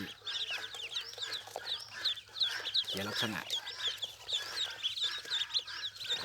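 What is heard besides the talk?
ducklings peeping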